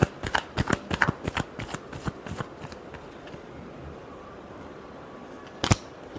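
Tarot cards riffled and shuffled by hand in quick bursts of crisp, papery flutters, then a pause and one final sharp snap of the deck, close and fairly loud with no talking.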